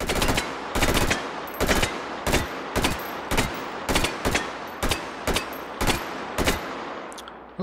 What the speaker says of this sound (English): Shoot off that shotgun